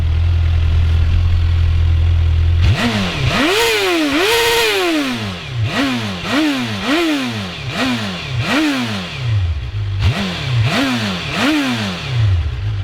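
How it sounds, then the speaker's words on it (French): A 2008 Suzuki GSX-R 750 sport motorcycle with its stock exhaust idles, then is revved repeatedly in sharp blips, loud and close, with a rough, rattly exhaust note. "elle fait un petit bruit de casserole avec le pot d'origine"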